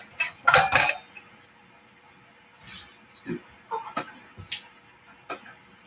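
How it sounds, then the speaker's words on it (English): Black pepper and pink salt being stirred into food, starting with a loud clatter of utensil against pot, followed by scattered softer taps and scrapes with quiet gaps between them. "stir that up a little bit"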